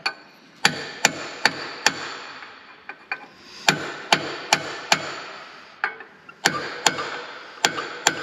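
A hammer strikes a punch on the track frame of a Dresser IH TD-25G bulldozer during a track frame guide repair, giving sharp metallic blows in quick bursts of two to four with short pauses, close and loud.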